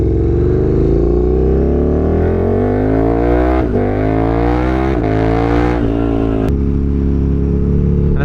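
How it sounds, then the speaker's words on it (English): A KTM 1290 Super Duke R motorcycle launches hard under launch control. Its loud engine note climbs steeply through several quick upshifts, then settles into a steady high drone. "Let's go show you guys the launch control."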